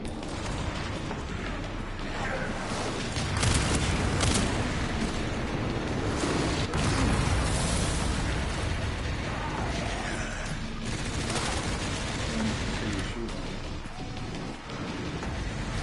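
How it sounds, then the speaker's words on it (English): Gunfire in the Resident Evil Requiem video game, heard as dense, continuous booming and crackling shots blending into a loud, sustained wash of noise that lasts throughout. "Who is shooting at me?"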